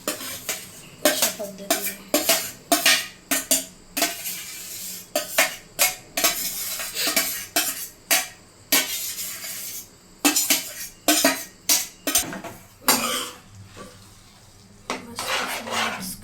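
A spatula scrapes and clanks rhythmically in a pan as mashed vegetables are mixed into pav bhaji, with a faint sizzle beneath the repeated strokes. A voice speaks briefly.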